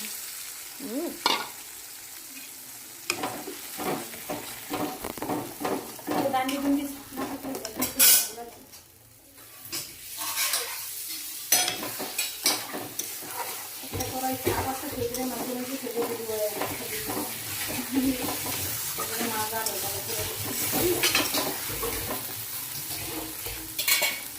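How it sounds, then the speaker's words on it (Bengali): Ground spice paste fries in hot oil for a Bengali fish curry with mustard paste, sizzling steadily with clinks of a spoon against the pan, a brief drop in the middle, and occasional talk over it. "এবার বেটে রাখা মশলাটা দিয়ে দেবো তেলে।"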